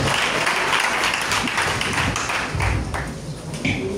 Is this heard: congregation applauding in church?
yes